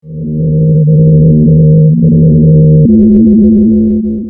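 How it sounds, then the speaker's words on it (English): Seismic recording of the Ross Ice Shelf in Antarctica, its eerie singing made audible as a loud, sustained low droning hum with layered tones that shift pitch partway through. "Scientists have recently discovered that the Ross Ice Shelf sings an eerie melody,"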